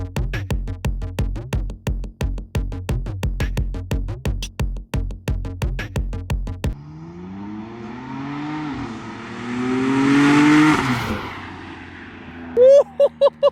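A 2016 BMW M4 with downpipes and a small tune revs up: a rising, roaring engine note swells for a few seconds and drops away. Steady rhythmic pulsing comes before it, and short sharp bursts follow.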